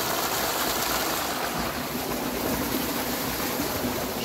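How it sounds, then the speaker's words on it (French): A small stream flows with a steady, even rushing and gurgling of water that holds the same level throughout, close by and without any voices. "Il est beau ce petit ruisseau."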